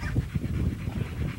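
A dog pants at a breeding kennel yard, quick close breaths in a steady rapid rhythm with no voices over it.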